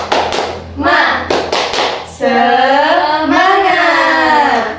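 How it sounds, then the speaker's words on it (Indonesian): In an Islamic primary school classroom, students do a rhythmic cheer clap: several sharp, close clap bursts in a pattern, then children chant loudly together. "kita tepuk semangat dulu ya"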